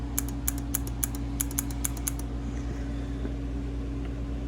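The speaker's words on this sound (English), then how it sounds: "Very nice, satisfying click." A DIY boost scramble button switch on a Neon SRT-4 turbo clicks about ten times in quick succession, sharp and close over a steady low hum, then stops.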